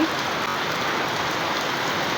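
Heavy rain pours down around a house, a loud, dense, unbroken roar of drops striking surfaces that holds steady for the whole stretch with no voices.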